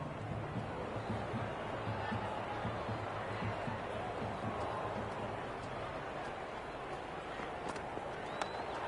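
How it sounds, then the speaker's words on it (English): A stadium crowd at a live Pakistan versus India ODI cricket match in Ahmedabad buzzes as a steady, distant babble with scattered shouts. It stays faint and continuous, with no clear speech over it. "The spectators are absolutely buzzing right now"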